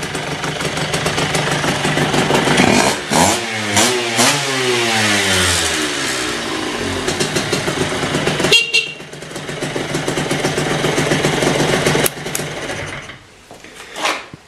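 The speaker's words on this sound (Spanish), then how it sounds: "Corta a ciertas revoluciones, empieza a fallar y la moto no sube, no corre" A small Aprilia RS 50 moped engine revs hard and holds high, stuttering against its rev limiter, then drops and climbs again in uneven bursts.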